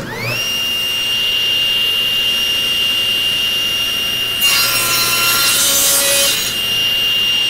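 A power saw spins up with a rising whine, then bites into wood on a bevel cut, a loud rasping burst lasting about two seconds before the motor hum carries on alone.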